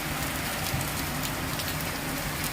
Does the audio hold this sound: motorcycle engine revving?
no